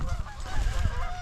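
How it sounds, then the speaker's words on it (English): Canada geese honk repeatedly outdoors, a cluster of overlapping nasal calls at moderate distance, with faint rustling underneath. "Looks like Canadian geese."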